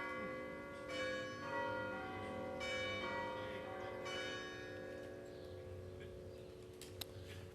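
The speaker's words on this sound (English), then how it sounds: "I think we'll wait for the pealing of the bells to finish" Church bells peal at an outdoor Independence Day program in Ste. Genevieve, Missouri, with repeated ringing strikes and a sustained, overlapping hum of resonant tones at moderate distance.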